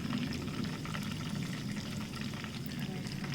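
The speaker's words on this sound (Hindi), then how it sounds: "सारी फ़िश को निकाल लेते हैं ऑयल से और जितने भी हमने जो बाकी बैचेस रह गए हैं उनको भी फ्राई कर लेते हैं।" Fish fries in hot oil in batches, making a dense, continuous crackling sizzle that stays steady and fairly close throughout, with no one speaking.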